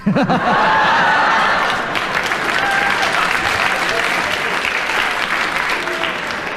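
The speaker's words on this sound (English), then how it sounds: "They heartily applauded, and the only thing I can do is they applauded so loudly, I have to agree." A studio audience at a radio panel comedy game bursts into loud, sustained applause mixed with some laughter, holding steady before easing slightly.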